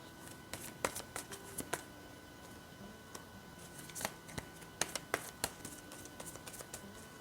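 Tarot cards being handled and shuffled on a table, with soft scattered taps and riffling clicks in irregular clusters, quiet and close, with no talk.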